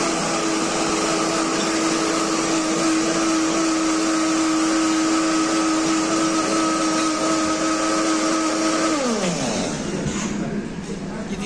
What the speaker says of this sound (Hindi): अब हम इसको अच्छी तरह ब्लेंड कर लेंगे।